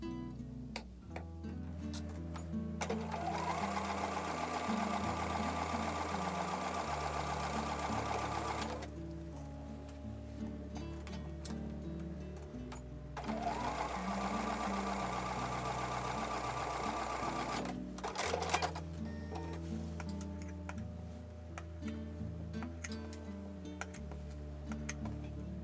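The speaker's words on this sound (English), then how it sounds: "I'm going to take those over to the sewing machine and sew with a 1/4 inch seam" Sewing machine stitching a 1/4 inch seam on quilt block pieces for an Amish star quilt, running in two long steady bursts with a brief pause between, a close mechanical whir with ticking needle rhythm.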